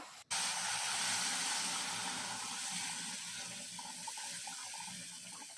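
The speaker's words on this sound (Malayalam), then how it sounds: "ഇനി ഈ തിളപ്പിച്ചെടുത്ത വെള്ളം മുഴുവനായും നമുക്ക് ഈ റവയിലേക്ക് ഒഴിച്ചു കൊടുക്കാം" Boiling water poured into roasted semolina for upma, a sudden rushing pour that starts loud and close, then settles into a steady, slowly fading hiss and bubbling.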